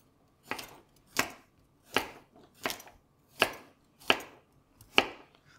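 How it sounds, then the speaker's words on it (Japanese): A knife chops carrots into bite-sized chunks on a cutting board, seven crisp, evenly spaced strokes ringing out close and clear against a quiet kitchen. "人参は乱切りにしていきます。"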